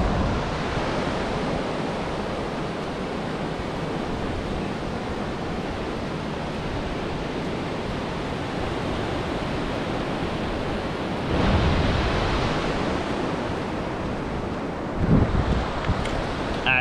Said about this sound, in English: And I'll give you a view of the ocean right now.